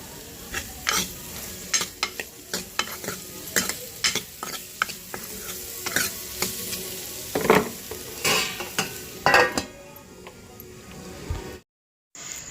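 Food frying in a pan of sunflower oil with turmeric, a soft sizzle under repeated scraping stirs and clinks of a spoon against the pan, close and steady until it stops.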